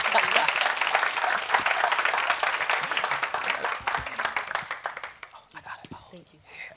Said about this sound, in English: Everyone give another round of applause for Dorcas.